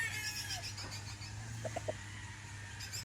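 A Golden Boy sweater gamefowl rooster gives a few short clucks in a quick cluster near the middle, fairly faint over a low steady hum, with some other bird chirps in the background.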